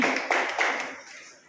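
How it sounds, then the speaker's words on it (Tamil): A small group at a maths teachers' training session claps for another group, a brief close burst of hand claps that quickly fades out. "அப்படி அழகு அருமையாக செய்த இந்த குழுவிற்கு நமது கைத்தட்டுகளை பாராட்டுகளாக கொடுப்போம்"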